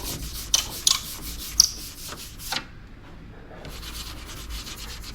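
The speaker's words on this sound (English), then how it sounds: "just gonna scuff up this edge a little bit" Sandpaper scuffs the fiberglass body edge of a Jeep TJ in a run of quick rasping strokes, with a few sharp scrapes early on and a pause before the rubbing resumes.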